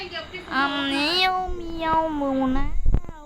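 A cat gives long, wavering, drawn-out meows that rise and fall over about two seconds, fairly close and clear, with a few dull thumps and knocks at the end.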